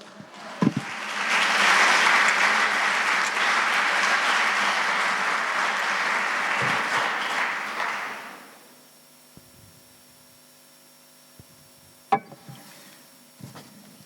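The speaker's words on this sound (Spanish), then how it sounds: "El pueblo de Dios le puede dar un aplauso al Señor." A church congregation applauds together, a dense sustained wash of clapping that holds steady for several seconds, then stops abruptly, leaving a quiet room with a few faint knocks and bumps.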